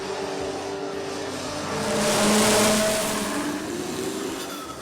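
Formula 4 race cars at a street race in Chennai, a loud continuous engine whine that swells as a car passes close around the middle, then eases back into a distant roar.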